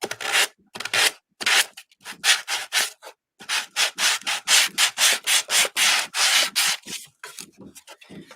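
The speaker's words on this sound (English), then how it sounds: "I'm just going to sandpaper that base" A base is sandpapered by hand in quick back-and-forth strokes, loud and close, with brief pauses between runs of rasping rubs.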